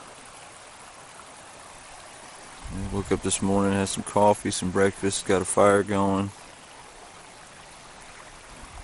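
Red Creek runs beside a backcountry campsite off Blackbird Knob Trail in Dolly Sods Wilderness, a steady broadband rush of flowing water throughout, with someone speaking briefly over it in the middle.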